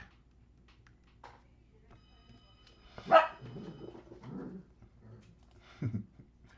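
A dog gives one sharp bark followed by a few softer woofs and a short whimpering yip, fairly near in a quiet space, with faint voices murmuring in the background.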